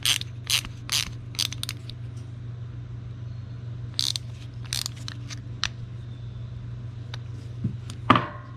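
A hand ratchet snugs down the float bowl screws on a carburetor in quick, close clicking bursts, separated by pauses, over a low steady hum.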